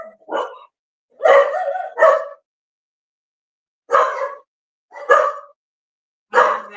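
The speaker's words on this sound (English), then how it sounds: "That you guys are barking at?" Dogs bark in short bursts, a pair of quick barks followed by single barks spaced a second or so apart, fairly close and loud with quiet gaps between.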